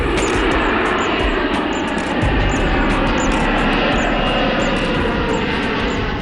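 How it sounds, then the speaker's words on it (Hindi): Indian Airlines plane IC-814 takes off from Kathmandu's Tribhuvan International Airport bound for Delhi, its engines roaring loud and steady in a continuous broadband rumble from start to finish. "इंडियन एयरलाइंस का विमान IC-814 काठमांडू के त्रिभुवन अंतर्राष्ट्रीय हवाई अड्डा से दिल्ली के लिए उड़ान भरता है।"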